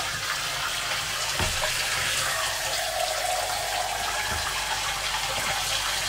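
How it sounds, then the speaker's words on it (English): Steady, continuous rush of shower water from a hose while a French Bulldog is bathed, filling the whole stretch evenly with no talk over it. "The French Bulldog is having a bath"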